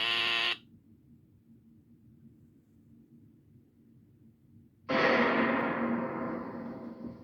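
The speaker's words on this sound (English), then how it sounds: "the fire alarm is going off" A fire alarm goes off in a house in an animated cartoon: a harsh buzzing blast is cut off quickly, then after a pause a second, longer blast rings loud and echoing.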